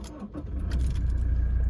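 A 2018 Toyota Hilux SR engine cranks and catches, settling into a steady low idle, with a faint jingle of keys early on.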